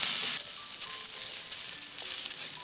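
Julienned potatoes are stir-fried in a pan with a little salt, giving a steady, soft sizzle with light stirring scrapes and a few faint clinks throughout. No one speaks over it.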